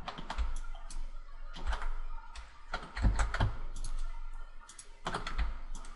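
Keystrokes on a computer keyboard during 3D modeling work, quick clustered clicks and taps in bursts with short pauses, close and moderately loud, no talking.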